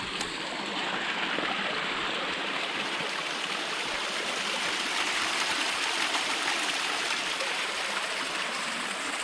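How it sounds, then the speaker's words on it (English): A waterfall rushes steadily along a hiking trail at Nockamixon State Park, a broad, even wash of falling water at moderate distance with no voices. "I guess they realize this is the waterfall."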